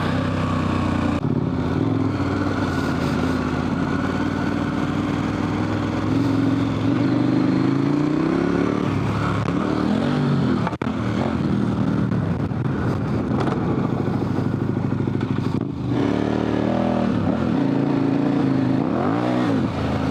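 A dual sport motorcycle on Heidenau K60 Scout tires rides off-road, its engine droning loud and continuous throughout, rising and falling as the throttle changes, with no talking.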